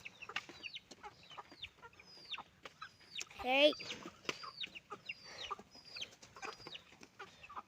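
Country chickens cluck and chatter in a busy farmyard, with short repeated calls and one louder squawk near the middle, fairly close; a person calls out briefly.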